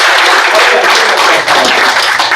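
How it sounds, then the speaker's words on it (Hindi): Audience applause at a Hindi comedy poetry gathering (kavi sammelan), a dense, steady wash of many hands clapping together, loud and continuous throughout. "एक बार तालियां बजा दो।"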